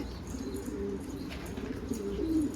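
Racing homing pigeons coo in a garden, soft low rolling calls repeating steadily with brief chirps and a faint flutter of wings nearby.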